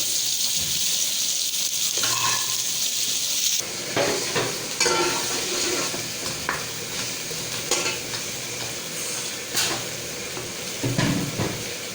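Spiced potato paratha filling with coriander powder, chili flakes and allspice sizzles steadily in a pan, with a bright hiss and intermittent scraping stirs close by, and no talking.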